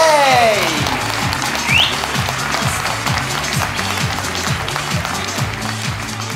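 An audience in a comedy club applauding during a stand-up show, with crowded clapping that settles into a steady rhythmic beat alongside whistles and a voice early on.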